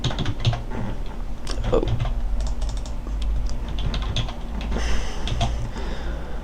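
Close, steady clatter of fingers typing on a computer keyboard, rapid irregular key clicks continuing throughout over a low background hum.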